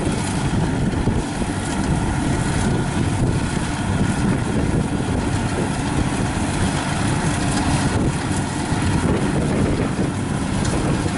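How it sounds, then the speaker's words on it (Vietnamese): Strong wind gusts buffet the microphone over a rain-season rice field where a Kubota 70 harvester works muddy, flattened paddy, a steady roaring rumble filling the whole stretch with no break. "Gió quá chừng gió."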